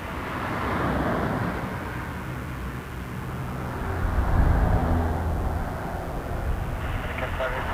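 A Dash 8 turboprop rolls for takeoff at Toronto Pearson, a steady broad roar building slightly midway, heard at a distance with background chatter.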